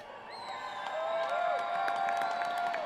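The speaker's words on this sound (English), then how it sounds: "Look at this crowd. It's awesome." A crowd at a bass fishing tournament cheers and claps, loud and sustained, with whoops and whistles rising over the noise.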